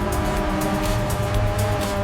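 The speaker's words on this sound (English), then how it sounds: "Twin-turbo energy bursts into life with every press of the throttle" A McLaren twin-turbo supercar on the road gives a steady, loud engine drone for a couple of seconds, with rhythmic bursts of higher rushing noise over a dense low rumble and no speech.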